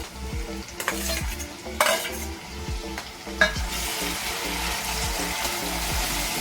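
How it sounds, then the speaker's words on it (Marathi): Onion and finely chopped tomato sizzle and fry in a pan while a spoon stirs and scrapes, with a few sharp clinks of utensils over the steady crackle. "सॉफ्ट होईपर्यंत आपल्याला परतून घ्यायचं आहे"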